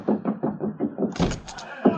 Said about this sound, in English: Instantly, the door slammed shut.